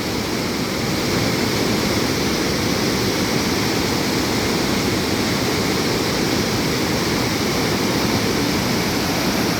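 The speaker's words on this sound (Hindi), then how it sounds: "कितना तेज़ी से पानी बह रहा है।" Water rushes hard and fast through an open sluice gate at Mohammadganj Bridge, a loud, steady, close roar of churning flow that holds unbroken from start to end with no voices.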